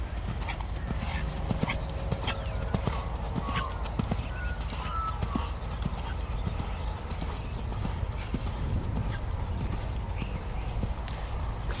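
A Grand Prix dressage horse canters in steady, rhythmic hoofbeats through a sequence of one-time flying changes. The thuds are clear and even, with a voice talking over them.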